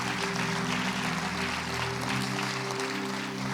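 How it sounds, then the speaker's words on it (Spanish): A church congregation applauding together, a steady dense wash of clapping held at an even level throughout, with sustained organ or keyboard tones underneath. "Démosle ese fuerte aplauso al Señor."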